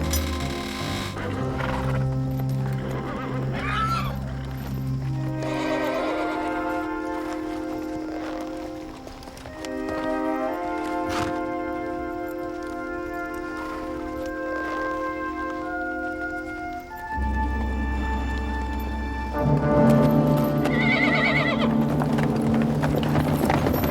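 Australian Light Horse cavalry mounts in Palestine, 1917: steady hooves clopping with an occasional whinny, close and busy, under a swelling orchestral score throughout.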